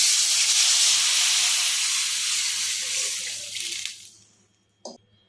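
Water poured into a hot pan of noodle masala hisses and sizzles loudly, then fades over about four seconds, with a brief sharp clink near the end.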